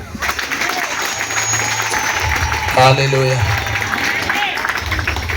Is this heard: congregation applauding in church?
yes